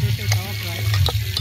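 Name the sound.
mutton and potatoes frying in a pot over a wood stove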